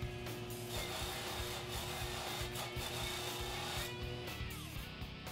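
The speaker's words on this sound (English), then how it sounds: "Mask off the handle and blade and then buff the guard to a mirror finish" A buffing wheel works against a knife guard, a steady mechanical whir with continuous rubbing and faint rattling textures throughout, close and unbroken by speech.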